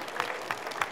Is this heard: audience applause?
yes